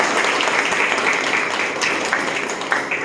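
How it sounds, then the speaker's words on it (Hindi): A room of adults at a training course in Rangpuri, Mahipalpur breaks into loud, sustained applause for a teacher, a dense wash of overlapping claps that stays even for a few seconds. "जोरदार तालियां हो जाए"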